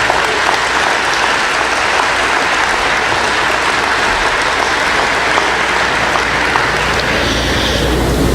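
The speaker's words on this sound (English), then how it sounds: "You can give him a round of applause." A large commencement crowd gives sustained loud applause for Vice President Joe Biden, a dense unbroken roar of clapping that holds at full strength for the whole stretch with no talk over it.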